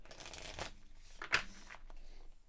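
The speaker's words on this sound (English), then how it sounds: "kind of give my quick little shuffle at the very end" Playing cards are given a quick little shuffle: soft, close riffling bursts with one sharper flick in the middle, all fairly quiet against a hushed room.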